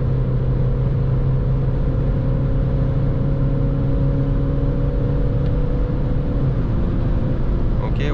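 A VW Polo 1.6 TDI with a 90 hp engine and seven-speed DSG gearbox accelerates on the highway, giving a steady, loud engine drone and road rumble with a slight shift in tone near the end. No one speaks.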